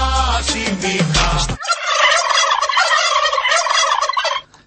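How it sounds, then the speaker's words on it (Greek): Loud, close poultry calls fill the clip: a burst of harsh gobbling clucks followed by a dense, continuous chorus of fowl chatter that breaks off near the end. "Τι κότες είναι αυτές που κακαρίζουν"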